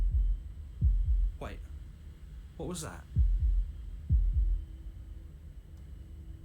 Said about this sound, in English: That was the sound of a heartbeat,